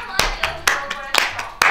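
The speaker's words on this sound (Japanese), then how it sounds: "拍手。" A few people clap their hands in several distinct, close, crisp claps, loosely spaced, with light talk in between.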